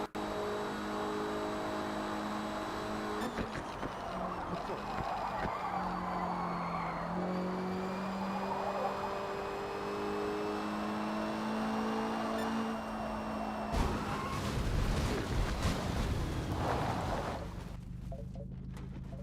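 A Mitsubishi Evo race car in Forza Motorsport corners with rising and falling engine whine, tyres skidding and squealing, then a harsh rough burst near the end.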